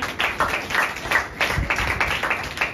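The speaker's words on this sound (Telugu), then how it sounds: "ఈమె కూడా చప్పట్లు కొట్టండి" Steady, dense clapping from a church audience applauding a child at a Vacation Bible School event, a continuous patter of hands with no pauses, fairly close and moderately loud.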